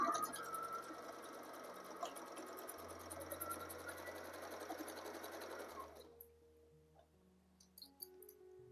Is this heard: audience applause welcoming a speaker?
no